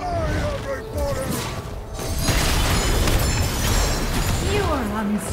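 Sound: enemy turret destroyed in video game Wild Rift

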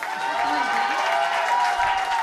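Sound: audience applause for singers

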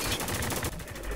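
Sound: gunfire in the video game Spec Ops: The Line

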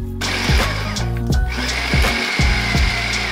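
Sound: grinding ingredients for Sarawak acar spice paste

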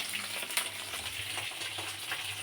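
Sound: pointed gourd frying in oil

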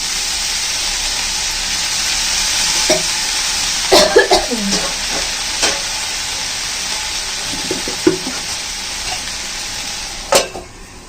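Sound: water poured into a hot pan, sizzling and stirring

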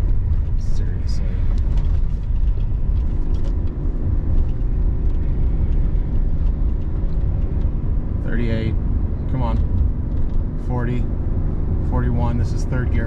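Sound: car engine accelerating through third gear

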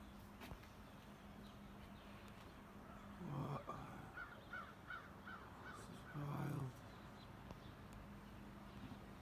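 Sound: crow cawing

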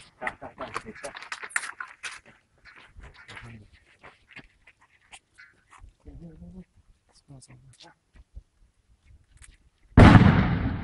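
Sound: fuse hand grenades exploding

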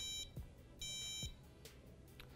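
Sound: drone beeping after losing radio connection

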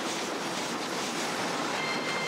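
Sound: train riding on rails, from the video game Red Dead Redemption

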